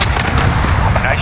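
Dense, continuous gunfire and explosions from a Call of Duty multiplayer match fill the short stretch, loud and close with no let-up, a radio-style voice faintly mixed in.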